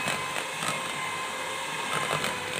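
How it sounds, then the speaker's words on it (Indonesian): An electric hand mixer beats sugar into cookie dough, giving a steady, fairly quiet motor whir with faint scraping texture that holds constant throughout, with no voices. "Adonan kita mixer sampai gulanya larut dan tercampur rata"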